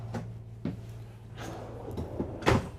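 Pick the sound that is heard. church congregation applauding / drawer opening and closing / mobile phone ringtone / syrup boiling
drawer opening and closing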